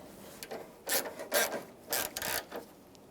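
A socket ratchet with a 10mm socket snugs up headlight bolts on a 1994-2001 Dodge Ram 1500, giving several short raspy clicking bursts, close and fairly quiet, with brief pauses between strokes.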